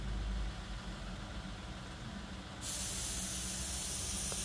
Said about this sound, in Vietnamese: cái máy nén phun đã lắm